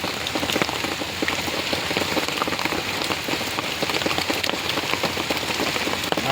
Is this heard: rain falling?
yes